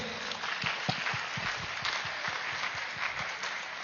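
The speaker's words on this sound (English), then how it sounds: "Can we clap for them please?" A crowd claps in a steady, rhythmic stream, somewhat muffled and moderately loud, with a diffuse wash behind it.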